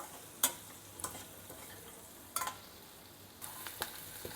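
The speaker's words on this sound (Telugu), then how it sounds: "ఇలా అన్నీ కలిసేలాగా ఫ్రై చేసుకుంటే సరిపోతుంది." Potato and spinach with chili powder fry quietly in a pan, with a soft background sizzle and a few faint, scattered spoon scrapes and taps.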